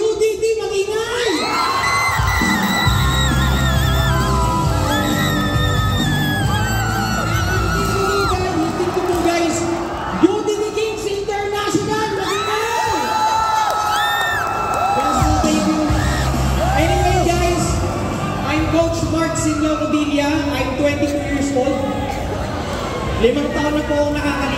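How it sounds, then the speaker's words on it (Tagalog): A crowd of team supporters shouts and cheers loudly at an event, with high whoops and screams swelling in waves, and someone talks over the noise at times. "Yung team po namin from UDT, mag-ingay!"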